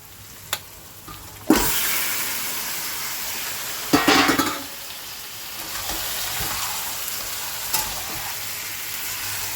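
Chicken pieces drop into a pan of fried onions and spices with a sudden loud hiss, then sizzle steadily while a spatula scrapes and stirs them in a few bursts, close up.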